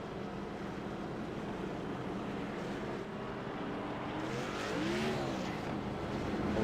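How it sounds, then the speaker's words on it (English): A race car in a racing video game at Martinsville Speedway runs under a steady wash of faint engine noise, and one engine note climbs in a brief rev near the end. "we can hear a car revving up"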